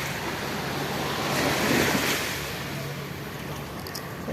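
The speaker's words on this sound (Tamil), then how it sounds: "இதாங்க கடற்கரை" Broadband ocean surf washes steadily over Kilakarai beach, swelling to a louder rush in the middle before settling back, with some wind noise on the microphone.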